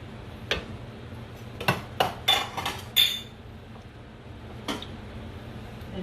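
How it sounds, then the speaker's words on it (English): Sausages go into a pan with olive oil. A cluster of sharp clinks and knocks comes close up, followed by one more a moment later, over a low background hum. "And now I'm going to add the sausages to the pan."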